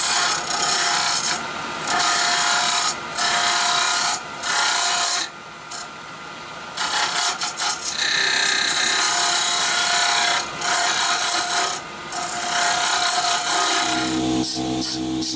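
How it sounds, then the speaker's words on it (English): A sharp, brand-new straight cutter on a lathe shaving the inside of a small yew hollow form, a loud continuous rasping cut broken into repeated passes with short pauses between them. "I'm going to use a straight cutter for that"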